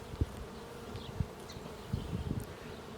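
Honey bees in a queenless hive hum softly and continuously, close by, with a few light knocks from handling the hive.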